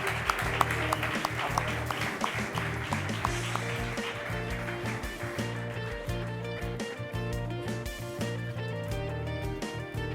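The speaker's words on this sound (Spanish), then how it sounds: "Aplauso, por favor." Audience applause at the final of a university debate tournament, a steady wash of clapping mixed with sustained tonal sound, holding at an even level for about ten seconds.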